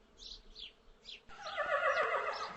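A horse whinnies loudly in a bright, drawn-out call after a few short chirpy sounds, close and with no speech.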